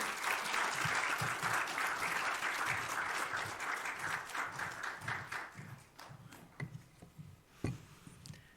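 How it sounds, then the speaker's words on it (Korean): A church congregation claps to welcome a radio station's programming director to the front during a worship service, steady dense applause that thins into scattered individual claps toward the end. "여러분 큰 박수로 환영해 주시기 바랍니다."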